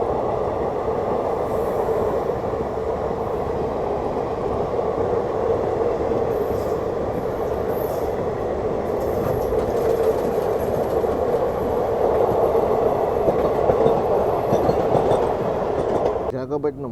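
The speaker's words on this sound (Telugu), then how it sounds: "మన బ్యాక్ సైడ్ కూడా ఒక ట్రైన్ అయితే వచ్చి ఆగింది" A train pulling in and coming to a halt on a neighbouring track behind a waiting Chennai–Howrah Mail, a sustained heavy rumble with rail clatter and faint wheel squeal, gradually easing toward the end.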